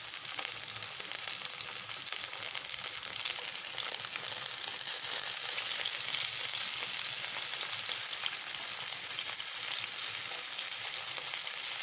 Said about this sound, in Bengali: উচ্ছেটা একটু নাড়াচাড়া করে